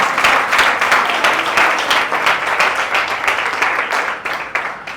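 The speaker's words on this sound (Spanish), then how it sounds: "Si le vas a aplaudir, apláudele en esta hora." A congregation claps and applauds, dense and steady, fading a little toward the end.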